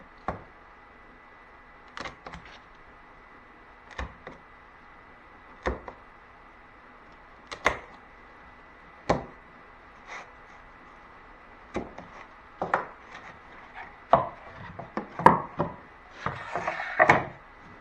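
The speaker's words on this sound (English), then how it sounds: "I remove it and cut the tabs with a utility knife" A utility knife slices through the holding tabs of a CNC-cut wooden part, giving sharp, isolated cuts and scrapes spaced a second or two apart, growing denser and rougher toward the end, close and quiet.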